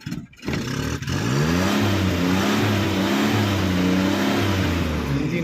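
The engine of a 2008 Maruti Omni MPFI van, in good condition and without smoke, revs up steadily and then holds a loud, even rising drone close by.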